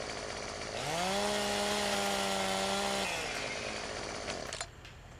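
A chainsaw in the video game Farming Simulator 17 revs up and drones steadily at high pitch for a couple of seconds, then winds down and cuts off, heard alone.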